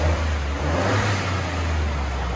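Stock-exhaust 2022 Ford F-150 XLT 3.5L EcoBoost twin-turbo V6 with factory converter, only 600 miles, held at a steady loud idle-to-rev drone, a continuous deep engine rumble close to the exhaust.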